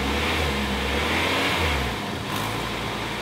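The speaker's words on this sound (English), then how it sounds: "Then we start the car and pray it works." A car engine rumbles and revs steadily at close range, then settles into a running idle, with no voices over it.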